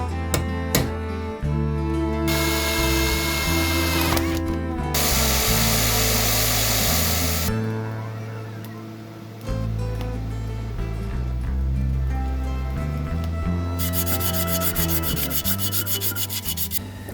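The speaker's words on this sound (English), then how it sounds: "Just flaring the end for safety." Flaring the end of a metal tube while building a 150cc engine, with loud grinding and rubbing bursts from a power tool against metal that start and stop over a steady droning background, and no speech.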